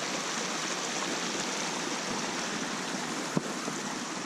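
Steady rushing of Summit City Creek, a mountain creek in Alpine County, California, a constant broadband wash close by, with one brief knock partway through and no talking.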